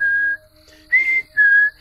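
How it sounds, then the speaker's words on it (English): Whistling inside the horror video game Fears to Fathom at a fire lookout tower: three clear, sustained single-pitch whistle notes with short gaps between them, loud and alone. "You're supposed to hear the whistling and you're supposed to go investigate."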